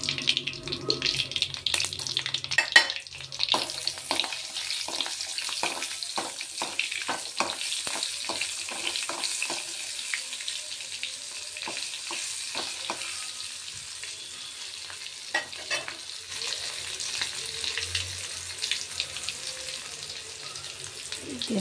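Garlic frying in ghee for Andhra-style podi pappu gives a steady, close sizzle with quick bursts of stirring clicks early on, and the sound settles into a softer, even crackle.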